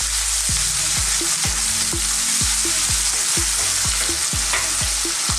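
Garlic and ginger paste frying in a pan for a minced beef keema curry makes a continuous loud, close sizzle, with a regular thumping, roughly two-per-second pattern of stirring or scraping running beneath it.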